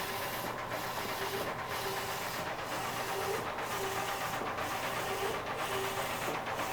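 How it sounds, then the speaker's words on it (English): A DTF printer in a busy print shop runs steadily, printing transfers onto film, with a continuous mechanical drone and a rhythmic carriage sweep that repeats about once a second, no voices. "an active print shop, and we've been printing these transfers all morning"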